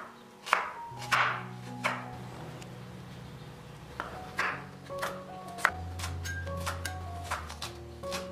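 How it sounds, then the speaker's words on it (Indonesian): Onions being chopped with a knife on a cutting board for homemade pizza sauce: irregular soft knocks and taps, close and faint, with background music and no talk. "jangan lupa cincang juga bawang bombaynya"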